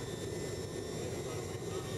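A Russian Ilyushin jet flying down to the Antarctic ice produces a steady, even cabin drone with a constant engine hum and faint high whine, heard from inside the aircraft.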